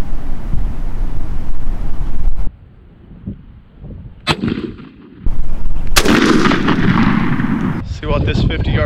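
Shotgun firing a Winchester Long Beard XR turkey load outdoors at about 49 yards: one loud close blast with a sharp crack and ringing tail, set against wind noise and a brief quiet gap.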